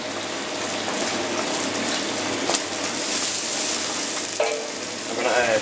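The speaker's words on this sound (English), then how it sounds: "So while the fish is cooking away there, it's going to take about 3 to 4 minutes to cook." Fish sizzles and spits steadily in a hot frying pan, a continuous close crackle with a few clinks and faint watery bursts near the end.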